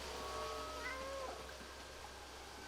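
Cats meow in a cat video game, several thin, drawn-out mews rising and falling, fairly faint over a low steady hum, with no talking.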